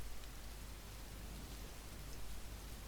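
Steady rain falls in an audiobook drama outside the steps of a lavish London palace, a dense, even hiss of drops spattering on the surface, constant and moderately close with no voices.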